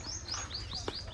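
A house sparrow chirps repeatedly at its nest on a ledge in front of a home, quick bright tweets in a rapid series, close and clear over a quiet background.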